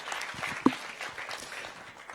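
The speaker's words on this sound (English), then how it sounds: "Please give a round of applause for the long track world champion" Audience applause at a motorcycle sport gala in Berlin greets the long track world champion, a steady broad wash of clapping with one sharper spike near the middle.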